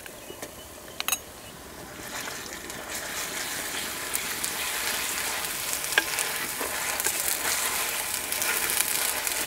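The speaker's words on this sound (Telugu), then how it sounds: "ఈ అల్లం వెల్లుల్లి పేస్ట్ పచ్చి వాసన పోయే వరకు బాగా వేయించుకుందాం." Ginger garlic paste frying in an oil-filled pan with coriander and mint, a steady close sizzle building in intensity, with a few sharp clinks of a spoon near the start.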